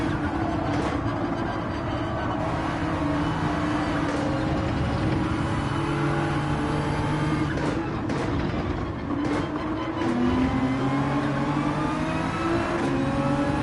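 A race car in Gran Turismo 7 at Fuji drones loudly as it accelerates, its engine pitch climbing in overlapping steps through gear changes, continuous and close with no talk.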